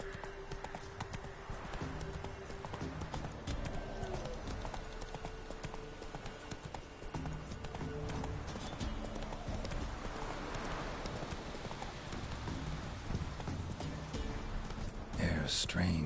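In The Witcher 3, Roach the horse's hooves clip-clop in a steady, close rhythm on the ground throughout, with a voice speaking over the hoofbeats.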